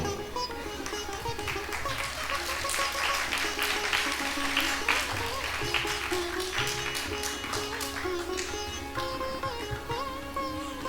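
An audience applauds through a guest welcome segment at a cultural programme, a steady, dense wash of clapping that holds at an even level the whole way, with no talk over it.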